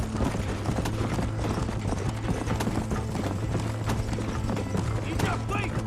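Rapid hoofbeats of galloping horses in the video game Red Dead Redemption clatter continuously in a quick rhythm, with voices talking over them.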